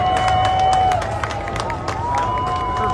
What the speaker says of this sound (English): People started clapping and cameras flashing.